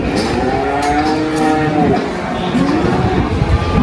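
Cattle at a livestock market low with long, drawn-out moos, several overlapping calls close by over a busy background of crowd noise.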